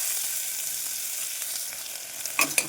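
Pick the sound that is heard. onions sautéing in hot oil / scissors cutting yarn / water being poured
onions sautéing in hot oil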